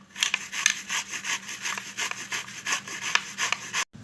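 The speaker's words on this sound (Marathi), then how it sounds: "आता आपण खिसून घेऊया" Peeled raw mango being grated by hand, a close rhythmic rasping scrape repeating about every quarter second, each stroke distinct, with no voices.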